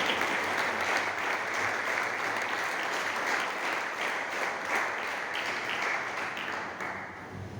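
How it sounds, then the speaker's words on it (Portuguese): Church congregation applauding during a Portuguese sermon, a steady dense patter of many hands heard at moderate, slightly distant level, easing gradually toward the close. "Aplauda o Senhor"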